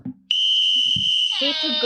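A referee-style whistle cuts in after a brief bit of talk and holds as one long, loud, steady shrill tone to the end, with voices murmuring faintly underneath.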